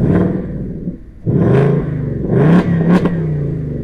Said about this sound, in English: when you want to rev it, you do the same motion, unlock then lock